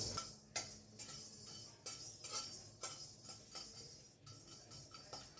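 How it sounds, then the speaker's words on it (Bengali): Whole garam masala spices dry-roasting in an unoiled pan while rice boils for fried rice, with a steady run of metallic clinks and scrapes from stirring against the pan and a faint background hiss. "শুকনো খোলায় গরম মশলাটা একটু ভেজে নিচ্ছি"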